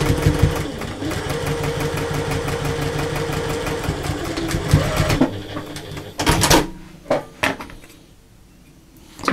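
A sewing machine stitches a quarter-inch seam on a belt pouch, running in a fast, even mechanical whir for about five seconds before stopping, followed by a few sharp clunks and handling knocks in the quiet.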